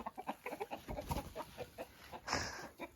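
Chickens cluck in quick irregular bursts close by, several short fowl calls overlapping and rising once near the end, with no talking over them.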